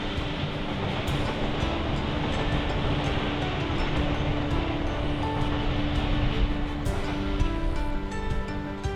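A train travels along a remote mountain railway in Bonghwa, South Korea, with a continuous loud rumble of wheels on track, rhythmic clatter and faint steady tones, heard from on board without talk.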